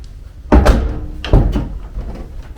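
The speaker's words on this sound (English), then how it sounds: "That door scrapes a little bit." A Jeep Liberty door scraping slightly as it swings shut, heard nearby in two loud bursts about a second apart, each with a thump.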